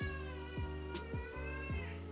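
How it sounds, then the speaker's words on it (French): A cat meows repeatedly close up, several short insistent cries in quick succession over a steady background hum. "Désolée si vous entendez mon chat miauler"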